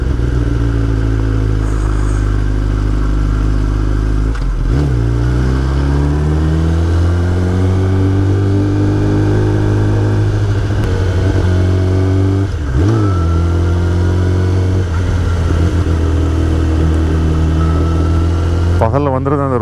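A Kawasaki ZX-10R sport motorcycle climbing a hill slowly, at about 20 km/h, on a long ride toward Darjeeling: a loud, steady, close engine drone whose pitch dips and recovers a couple of times, mixed with continuous road and wind noise.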